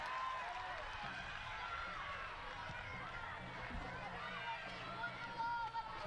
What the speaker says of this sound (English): you can hear it's lifted the energy of the crowd